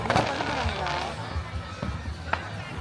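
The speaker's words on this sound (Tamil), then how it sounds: "ஸோ இங்கே ஏதோ வெடிச்சிட்ருக்காங்க." Fireworks going off at a Tamil family's festival celebration in Chicago, USA, heard as scattered dull bangs and pops at a distance beneath crowd murmur and nearby voices.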